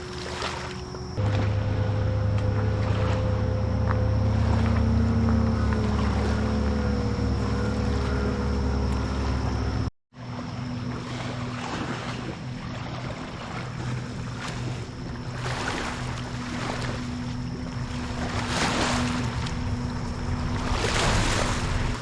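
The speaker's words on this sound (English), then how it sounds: "there's getting to be a lot more speedboats out" Speedboat engines drone across a lake, with a steady hum and waves lapping, interrupted by a brief cut before the engine noise continues.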